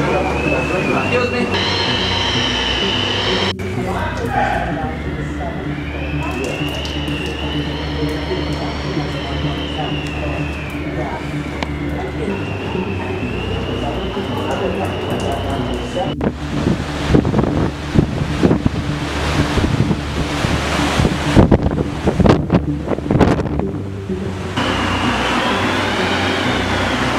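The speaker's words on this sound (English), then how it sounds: "Powerful wind." Powerful wind at sea roars across the microphone aboard a cruise ship caught in a bomb cyclone, a loud continuous rumble with gusting buffets and rattling throughout, while people talk faintly beneath it.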